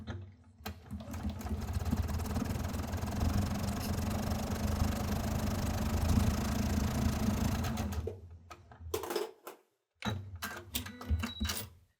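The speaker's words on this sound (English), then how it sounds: "it is time to sew." A sewing machine stitches a pinned quilt triangle pair, running in a steady close mechanical whir for about eight seconds, then stopping, followed by a few short bursts and clicks.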